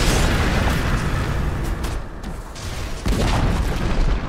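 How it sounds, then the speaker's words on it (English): A Dota 2 tower collapses in a dense, sustained rumble of explosions and crumbling debris, loud and close throughout. The roar dips briefly midway, then surges back. "Dire's top tower has fallen"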